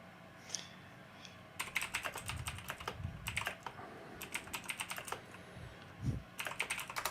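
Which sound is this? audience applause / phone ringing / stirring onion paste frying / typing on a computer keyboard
typing on a computer keyboard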